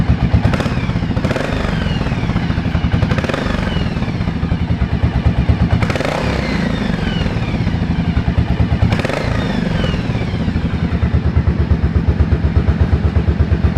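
A 1983 Yamaha Virago 750 Midnight Special motorcycle engine, freshly rebuilt, idles steadily and quietly up close, with a rapid, even mechanical clatter and a few brief swells in intensity.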